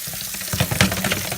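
Cold tap water runs over frozen shrimp in a home kitchen for a seafood boil, a steady close splashing stream that holds for a moment, heard alone.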